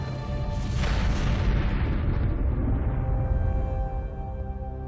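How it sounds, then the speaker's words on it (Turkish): Fireworks show explosions in a video game scene, a dense continuous barrage of deep booms and crackling bursts, loud and rolling without pause, slowly thinning toward the end with no voices. "Havai fişek gösterisinin başladığını ucu ucuna görebildim."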